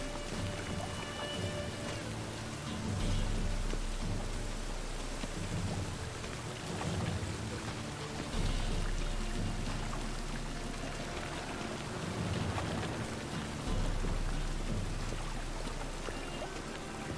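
Steady rain pours down over a town, a dense hiss of drops hitting surfaces with low rumbling swells that come and go in the background.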